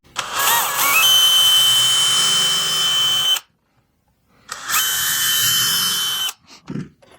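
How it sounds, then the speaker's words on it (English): A power drill fitted with a combination countersink bit pre-drills into wood boards in two loud close bursts of high whine, about three and two seconds long, split by a short silence and followed by a few small knocks. "I'm gonna go ahead and pre-drill with one of these combination bits that has a countersink and the pre-drill on it"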